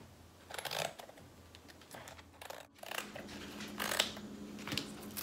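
Scissors snipping through thin material for a Dollar Tree DIY decorative candle holder, a few quiet crisp cuts spread out with soft handling rustle between them.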